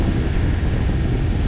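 Steady wind rushes over a sailboat at sea between Santa Cruz Island and Santa Barbara Island, a constant broadband roar buffeting close to the microphone with no pauses.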